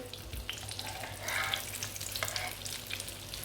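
Breaded chicken patties fry in oil with a dense, even sizzle and crackle, swelling briefly midway as they are moved; close and continuous, no voices.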